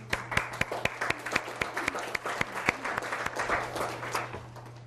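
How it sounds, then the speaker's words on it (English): An audience claps steadily, individual claps sharp at first before blending into a dense wash of applause, over a low steady hum. "So I want to applaud you for that."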